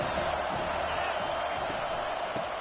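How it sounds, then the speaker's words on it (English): A football stadium crowd roars continuously, a broad, loud wash of cheering with occasional thuds and whoops rising from the mass of noise. "This crowd bringing the energy and noise early."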